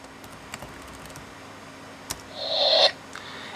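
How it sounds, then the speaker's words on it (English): A few light keyboard taps and clicks, faint and sparse, while entering a save name in Tomb Raider Anniversary, followed by a brief soft chime-like tone. "So just give me a minute while I type this in."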